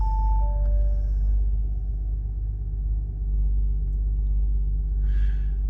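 An Audi A6 Avant 3.0 BiTDI quattro Black Edition diesel with 320PS, Tiptronic and 62,701 miles settles into a smooth idle after brief chime tones, holding a steady, close, low rumble throughout.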